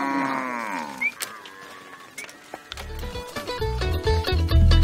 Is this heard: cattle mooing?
yes